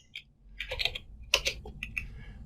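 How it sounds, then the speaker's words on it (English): Keystrokes typed into Notepad on a Windows 10 computer keyboard: a quiet, close burst of irregular clicks with a few louder taps, no voices. "if I just start typing anything in the Notepad"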